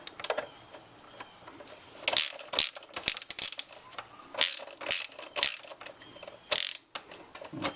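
Hand ratchet wrench loosening a nut on a 2001 Dodge Dakota 4.7L engine during spark plug work, giving faint, close, irregular clicking and ratcheting strokes with brief pauses.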